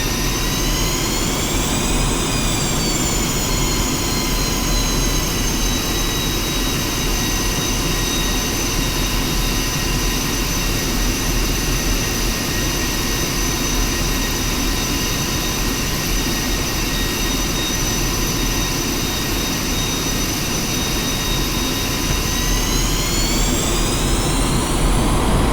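A Su-25 jet engine drones steadily while the aircraft taxis in the DCS flight simulator game, a loud, unbroken roar with a high whine that dips slightly near the start and end.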